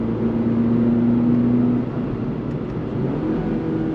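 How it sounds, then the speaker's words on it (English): A 2025 Toyota GR86 base sports car engine humming under load inside the cabin, a steady tone that drops sharply midway as a downshift blips the throttle, then settles into a lower drone. "it's got this technology where it's actually blipping the throttle on the downshift to allow for a faster downshift"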